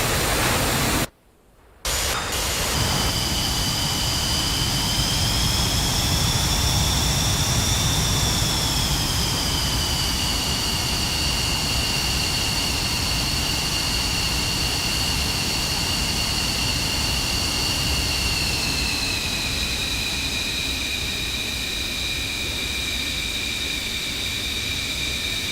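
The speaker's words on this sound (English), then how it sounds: "Taxiing again." Jet aircraft taxiing in the DCS flight simulator, likely an F-14, F-16 or F-18, with a steady, loud turbine whine and rushing roar running continuously after a brief dropout near the start.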